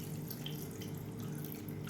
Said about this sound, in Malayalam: അതിലേക്ക് നമുക്ക് കുറച്ച് വെള്ളം ചേർത്ത് കൊടുക്കുക.